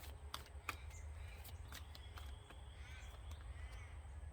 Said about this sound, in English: I have ravens cawing all over the place